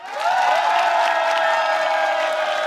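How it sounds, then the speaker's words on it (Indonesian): A studio audience of candidate supporters at an Indonesian televised debate applauds and cheers, a steady loud wash of clapping with tonal ringing layered over it, held at an even level after a quick swell at the start. "Tepuk tangan."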